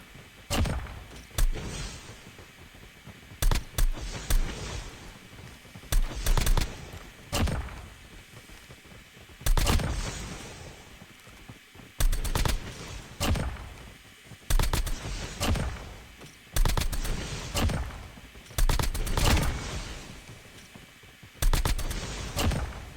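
Video game gunfire with a thermite rounds attachment, loud repeated bursts of rapid automatic shots separated by short pauses, with sharp thunking impacts throughout.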